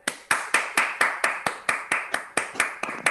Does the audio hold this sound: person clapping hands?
yes